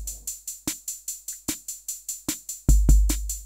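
A basic programmed drum beat without delay plugins, with dry kick and hi-hat hits in an even, steady pattern and a heavier thump near the end, close and clean with no voices.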